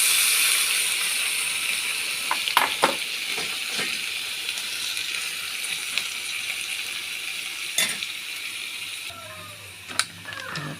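Squid goes into a hot pan for adobo and sizzles steadily, with scattered clanks and scrapes of stirring over the continuous frying hiss.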